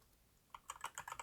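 Soft, fairly close keystrokes on a computer keyboard, starting after a brief quiet pause and then running as a quick irregular burst of clicks, with no talking.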